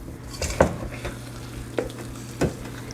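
Chocolate chips are worked into cookie dough with a spoon, making three distinct soft scraping strokes spaced about a second apart over a quiet, steady kitchen background.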